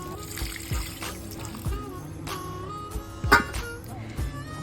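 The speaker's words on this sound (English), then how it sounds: "Next, we add enough water." Water poured into a cooking pot of sautéed garlic, onion and unripe jackfruit, a soft trickling splash heard close and fairly quiet, with a few faint clinks and background noise.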